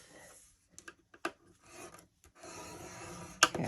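Scoring tool dragged along paper or cardstock while making a Hershey nugget holder, a series of short rasping strokes separated by pauses, close and fairly quiet.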